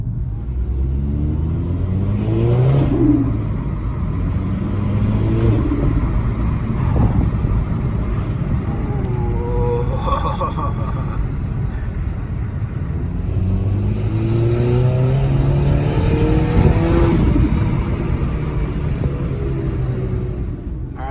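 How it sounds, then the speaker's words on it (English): A car engine fitted with a Revision D diverter valve revs up and down repeatedly over a steady rumble, with a whooshing intake sound rising alongside each surge. "You can actually hear the intake now instead of it just sounding like it's gonna explode."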